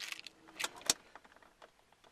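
Car keys jangle in a short burst of bright metallic clinks, with one sharp louder rattle near the middle, close to the microphone with no talking.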